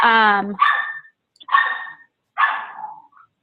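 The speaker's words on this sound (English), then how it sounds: "I'm sorry if you can hear my puppy barking in the background." Puppy barking in short sharp bursts, about four yips and barks spaced across a few seconds, close and loud in a quiet room.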